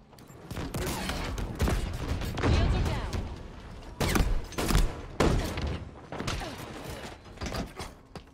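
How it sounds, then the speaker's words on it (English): Bursts of rapid video game gunfire crackle through a busy, loud mix of mechanical clanks, with heavy volleys around the start, middle and later stretches, while a person talks over parts of it. "Who's shooting?"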